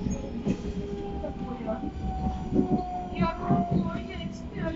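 A Moscow metro train on the Butovskaya line runs with steady wheel rumble, rhythmic clicks over the rail joints and a thin squealing tone, under people talking nearby.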